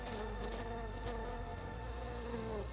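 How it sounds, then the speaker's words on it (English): A large bumblebee buzzes steadily and loudly close by for the whole moment, its drone continuous over a low background rumble as the insect hovers near. "That's one of those big bumblebees, too."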